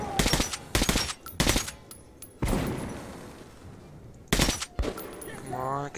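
Shotgun blasts and other gunfire from the first-person shooter Metro 2033 Redux come in loud, sharp bursts separated by short gaps, with a rumbling tail in the middle and a voice briefly heard near the end.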